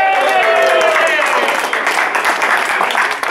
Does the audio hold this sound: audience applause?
yes